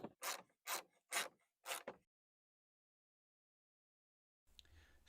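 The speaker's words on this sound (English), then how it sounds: "use a 10 millimeter socket and remove the 4 bolts holding the grill into the frame" A socket wrench on a 10 mm socket ratchets out the bolts holding a truck grille to the frame, four loud close bursts of clicking, then silence and a faint rustle.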